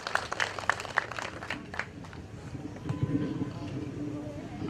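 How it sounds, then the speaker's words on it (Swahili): Audience clapping at an outdoor Kenyan public gathering attended by clergy: a burst of scattered, sharp handclaps near the start that thins into a dense, noisy crowd murmur with voices mixed in. "pigeni makofi"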